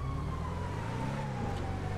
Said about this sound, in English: There's the sirens again.